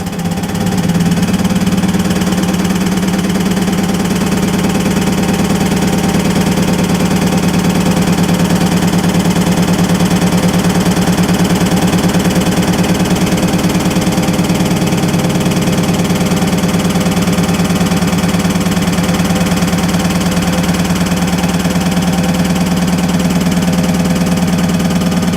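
An ATEX-rated pneumatic fixed band drum rotator (STP01-DRH01-FB-Ex) lifting a drum gives off a steady, loud continuous mechanical hum with low drone and air hiss, unbroken for the whole stretch with no talking.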